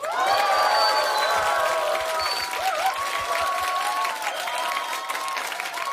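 Studio audience at a live public broadcast of a Korean political talk show applauds and cheers loudly and steadily, a dense wash of clapping with whoops and shouts over it, the cheering easing slightly toward the end.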